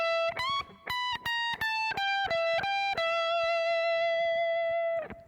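Electric guitar playing a blues solo phrase: a quick flurry of picked and bent notes with distortion, settling into a long sustained held note that rings out before cutting off.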